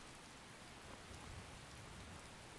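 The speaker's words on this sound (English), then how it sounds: "Of course, it's raining." Rain falling in Skyrim, a dense, steady patter of drops hissing across the whole clip at a soft level with no voices.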